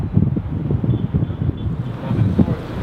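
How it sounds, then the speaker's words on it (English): Strong wind buffeting a skyscraper rooftop in Bangkok, a loud, close, continuous low roar of microphone-battering gusts that churns steadily throughout. "It basically means that it's strong wind, we have to wait."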